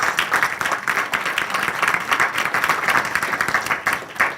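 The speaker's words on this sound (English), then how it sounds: "Booker Devon, give him another round of applause." An audience at a panel discussion breaks into steady, sustained applause, a dense patter of many hands clapping in a room, lasting throughout with no talking heard.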